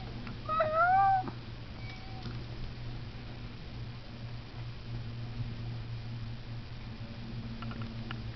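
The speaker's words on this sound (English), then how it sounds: "This is my lap. It doesn't fit this many cats," Several cats crowded onto a lap, one giving a short rising meow near the start, then quiet low rustling and faint purring-like hum for the rest.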